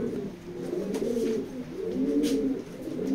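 Young racing pigeons in a loft coo in low, rolling, throaty phrases, several overlapping calls close by with brief pauses between them and no voices over them.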